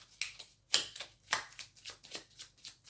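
Tarot cards shuffled and drawn during a love reading, a series of quiet, soft riffling and flicking bursts at an uneven rhythm, close and faint, with no voices.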